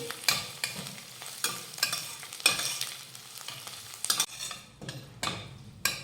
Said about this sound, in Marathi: आणि ह्या कांद्यासोबत मिरची परतून घेऊयात